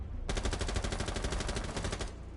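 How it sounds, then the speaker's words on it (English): A rapid burst of automatic gunfire in a video game during an esports match rattles continuously for about two seconds, loud and dense, with no voices. "Well done to the Jaeger for that smart little run out, hearing the gunshots."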